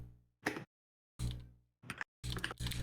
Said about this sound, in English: I am not typing right.